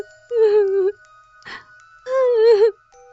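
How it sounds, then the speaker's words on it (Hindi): A wailing cry in a Hindi horror story: two long, tremulous moaning cries with a short sob between them, close and clear against a quiet background. "कमरे में किसी और के रोने की आवाज आने लगी।"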